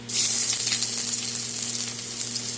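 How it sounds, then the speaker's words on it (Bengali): Ginger frying in a pan for a Bengali dal, a loud, steady close-up sizzle and crackle of hot oil holding without pause. "আদাটা অল্প ভেজে নিই, কাঁচা গন্ধটা চলে যাবে।"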